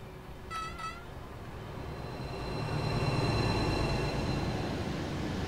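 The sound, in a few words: train passing by in video game Train Sim World 4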